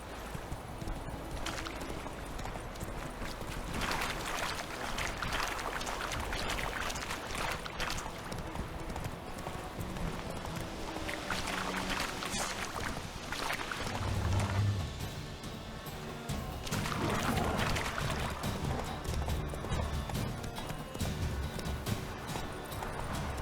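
Geralt's horse Roach from The Witcher 3 gallops in a steady, continuous clip-clop of hooves for over twenty seconds, close and prominent, with rushing game ambience and no talking.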